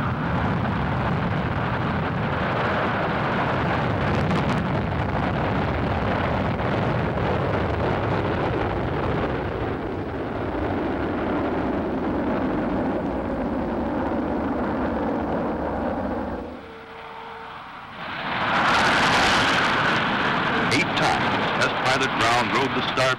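Lockheed F-104G jet blasting off on a rocket booster in a zero-length launch, a loud sustained roar that dips briefly before surging again, with a voice talking over it.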